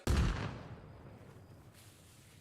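An enemy fragmentation grenade detonates in the Arma Reforger military shooter, a single loud, close blast with a heavy low boom that rolls off into a long fading rumble; no voices.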